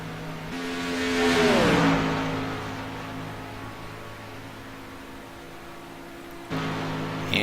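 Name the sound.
race car engine hitting the rev limiter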